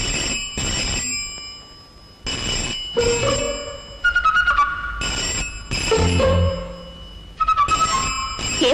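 Old-style telephone ringing indoors in a Telugu film scene, repeated loud electronic ring bursts with short pauses between them, no talking.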